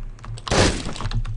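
Glass shatters in the video game Hotline Miami 2: a single sharp, loud crash with a short scattering tail, set against steady game background sound.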